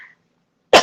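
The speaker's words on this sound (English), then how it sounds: "Excuse me, y'all, because I do have to cough, but it's not Rona." A single sharp, close cough bursts out after a brief near-silence, loud and abrupt, with a short faint vocal sound at the very start.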